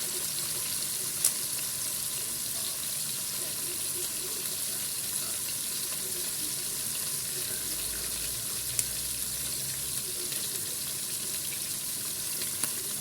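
Marinated boiled chicken legs searing in a pan, giving a constant bright sizzle that holds steady at moderate volume, with a few faint ticks and no voices.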